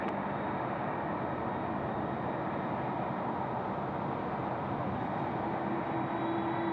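A Malaysia Airlines airliner departing Sydney Airport gives a steady, loud broadband jet roar that fills the whole clip without letting up, with a faint tonal whine rising near the end and no talking.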